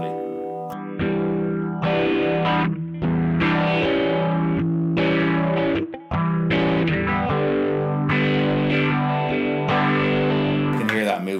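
An electric guitar runs through the vintage phaser of a BOSS MD-200 modulation pedal, playing sustained, slightly distorted chords with a slow, sweeping phase movement, loud and close, with brief pauses and no talking.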